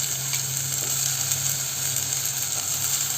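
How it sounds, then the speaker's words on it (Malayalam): Raw plantain slices coated in turmeric go into a pan of hot oil and spices for a dried prawn curry. They give a loud, steady sizzle and frying hiss that continues evenly throughout. "അത് ഇതിലേക്ക് ചേർത്ത് കൊടുക്കുന്നുണ്ട്"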